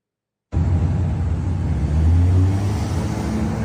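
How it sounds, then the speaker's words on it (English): Steady road traffic rumble fills the scene after a half-second of silence, a dense continuous low roar of passing vehicles that swells slightly midway, with no voices. "That sounds like traffic."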